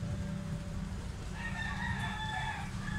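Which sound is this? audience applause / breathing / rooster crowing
rooster crowing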